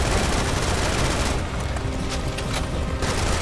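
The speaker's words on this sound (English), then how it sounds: "And the AK goes brrrr." An AK rifle in the Serious Sam: Siberian Mayhem shooter fires a sustained, rapid automatic burst, loud and close, a dense unbroken roar of shots filling the whole stretch.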